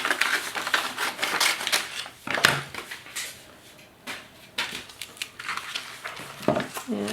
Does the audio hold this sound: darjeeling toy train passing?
no